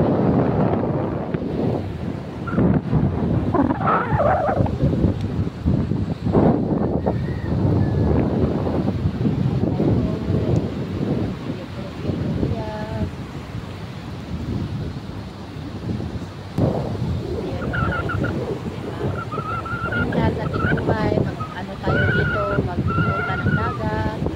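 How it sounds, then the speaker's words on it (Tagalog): Wind buffets the microphone at a seashore as waves wash in, a constant roaring rumble with people speaking over it throughout. "punta tayo doon sa may tabing dagat"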